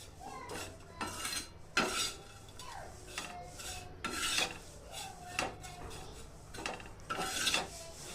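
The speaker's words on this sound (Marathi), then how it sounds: "या पद्धतीनं सतत हलवत हलवत आपल्याला सुकट भाजून घ्यायची आहे" Dried shrimp roasting in a pan and stirred nonstop with a utensil, a close, repeated scraping and rustling of the dry shrimp against the metal with soft clinks in an irregular rhythm.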